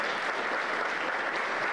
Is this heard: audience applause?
yes